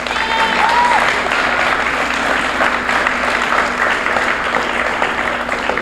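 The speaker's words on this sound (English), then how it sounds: "let's give these 4 a round of applause." Crowd at a basketball championship applauds continuously, a dense, loud wash of clapping that holds steady throughout, with a brief tone near the start.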